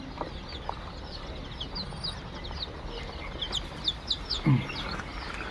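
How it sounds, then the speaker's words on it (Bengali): Egyptian Fayoumi chickens in a brooding shed, a steady murmur of soft clucks and chirps from many birds with a louder squawk near the end. "দেখুন অরিজিনাল মিশরীয় ফার্মি।"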